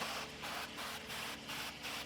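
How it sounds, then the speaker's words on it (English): Wagyu beef tallow is sprayed over chicken thighs on an offset smoker in about five quick, evenly spaced hissing bursts, close and fairly loud, with short gaps between. "We're gonna go ahead and spray down with some more Wagyu beef tallow."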